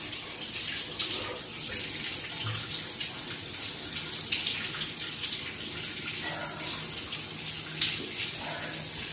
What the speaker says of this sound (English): Stop the shower